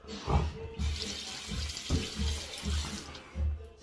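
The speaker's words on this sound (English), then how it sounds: "Drip some more water off that tub." Water drips and splashes off a shaving soap tub into a sink, close and irregular, with several distinct watery plops and a running trickle beneath.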